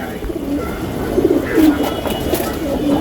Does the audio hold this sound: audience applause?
no